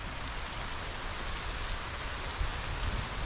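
Steady rain falls over countryside north of Poneloya Road in Nicaragua, a dense, even hiss of drops on surfaces that holds close and constant throughout, with no voices.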